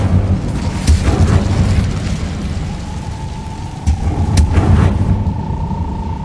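The Incendio fire spell cast in the Hogwarts Legacy video game, rumbling whooshes and booming bursts of flame over a steady low roar, with a faint sustained tone in the background.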